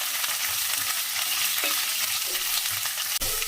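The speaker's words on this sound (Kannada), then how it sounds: "ಎಣ್ಣೆ ಜೊತೆಯಲ್ಲಿ ಈರುಳ್ಳಿ ಸ್ವಲ್ಪ ಫ್ರೈ ಆಗಬೇಕು" Chopped onions frying in oil in a pan for a pumpkin palya, a steady close sizzle with occasional stirring scrapes and a brief sharp clink near the end; no talking.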